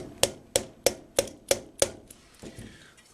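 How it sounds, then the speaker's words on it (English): Six sharp metallic taps of a screwdriver on a part of a Penguin engine's right side cover land at an even pace, close and crisp, followed by a couple of softer knocks. "I'm just going to give it a tap with the screwdriver here."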